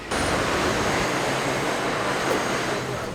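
A New York City 5 subway train rumbles and roars steadily at close range, a loud continuous broadband rush with a faint high whine, as if heard from on or beside the train.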